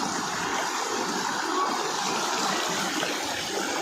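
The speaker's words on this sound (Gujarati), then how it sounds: "તો પાણી જાય કેટલું મસ્ત" Water flows steadily down a mountain stream at Girnar near Junagadh, a continuous close rushing wash that stays even throughout with no voices.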